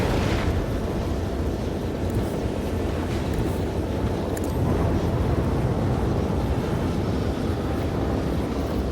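Dense, continuous rumbling barrage of spaceship macro cannon explosions in Warhammer 40k: Rogue Trader, deep booms rolling into each other without pause, with occasional sharper bursts on top.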